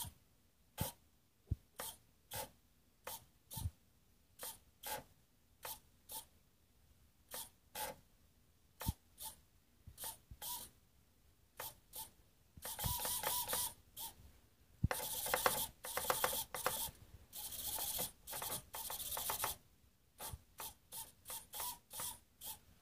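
Hitec HS40 and HS35HD economy RC servos whir through quick movements, a series of short sharp mechanical bursts with pauses between, then denser stretches of buzzing motion, close and alone.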